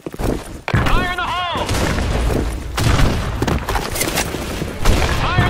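Grenade blasts and gunfire in the online shooter DIABO Blackshot, a loud broadband burst followed by sustained crackling bangs and thumps, with game voice callouts over the action.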